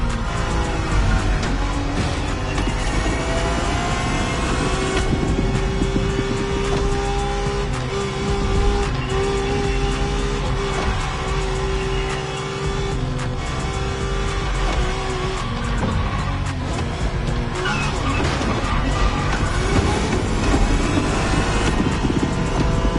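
A 1990s Honda NSX sports car in a racing video game roars at high revs, the engine note rising and falling with gear changes while tires squeal through corners, loud and continuous without a break.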